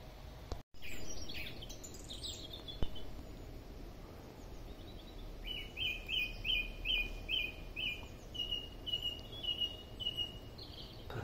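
Birds sing beside a narrowboat on the waterway to York, a run of bright, evenly repeated chirps in the middle distance over a low steady background rumble, with one sharp knock near the start.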